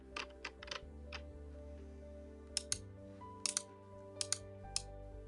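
Someone types on a computer keyboard, with quiet, irregular keystroke clicks in small bursts and isolated taps over a low, steady hum.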